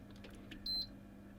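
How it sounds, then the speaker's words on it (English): A multimeter gives a single short electronic beep while testing continuity across the taps of a multi-tapped 500 ohm resistor during repair of an Eddystone 840A radio, faint against a low hum. "Now it's only beeping single bleep because it's actually measuring a resistance between the different taps on the resistor"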